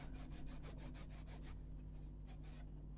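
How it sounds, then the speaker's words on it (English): Wood being sawn with a tenon saw to cut a bridle joint, fast even rasping strokes close by that thin out and turn fainter and more sporadic toward the end, no voices. "keep your saw nice and straight, and you're going to go saw all the way down to the line that you've marked on each side"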